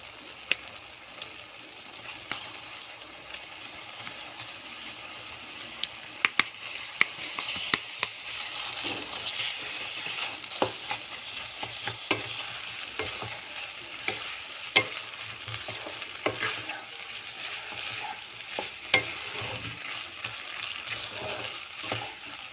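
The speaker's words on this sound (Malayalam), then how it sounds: "ഇനി നമ്മൾ നല്ലപോലെ വേവിച്ച് വെച്ച ആ പാസ്ത ഇട്ട് കൊടുക്കാം" Cooked pasta tossed into a hot pan and stirred for an Indian-style pasta, constant loud sizzling with frequent scraping and clinking of the utensil against the pan throughout.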